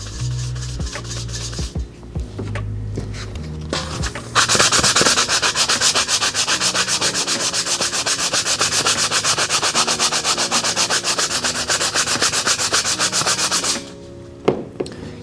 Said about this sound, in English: Use rubbing alcohol and a sanding sponge to get the stickers off.